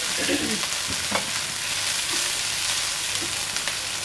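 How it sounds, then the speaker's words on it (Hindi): Rice goes into a hot frying pan of oil for biryani, setting off a steady, close sizzle with occasional scraping stirs and no talk. "अब मैं इसमें ये चावल डाल देती हूँ।"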